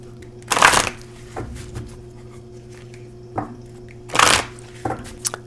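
An oracle card deck is shuffled in two quick, crisp riffling bursts a few seconds apart, close and clear, with faint handling taps between them.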